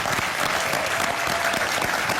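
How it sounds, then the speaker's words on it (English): An audience at an economic empowerment and entrepreneurship event applauding steadily, a dense, even clatter of many hands clapping close by. "So let's give these two young men a big round of applause."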